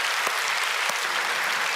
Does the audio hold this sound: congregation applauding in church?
yes